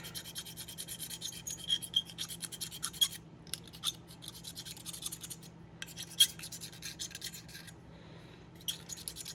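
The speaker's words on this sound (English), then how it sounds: "Instead of burning it in, I'll get in there and just scrape out." Gasket residue scraped off a 2001 KTM 50SX engine case with a hand tool: short, quiet rasping strokes repeat closely in uneven bursts with brief pauses.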